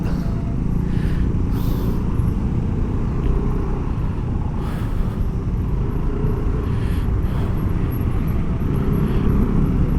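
Motorcycle ride through rush-hour traffic in Makassar, a loud continuous engine drone and road rumble with passing vehicles blending in throughout.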